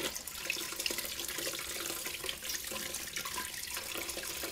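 Water runs steadily from a tap into a bucket while a long wig is being washed. It is a continuous close hiss and splash at an even level throughout, with no voices.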